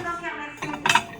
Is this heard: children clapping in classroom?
no